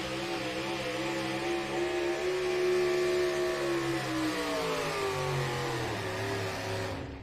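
An older Ford pulling truck, around a 1969 to 1974 model, revs hard at an NTPA Grand National truck pull in Rockwell, Iowa. The loud, sustained engine roar swells and shifts pitch throughout before cutting off sharply at the end.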